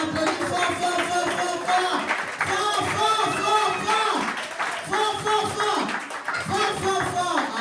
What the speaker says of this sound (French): On applaudit fort.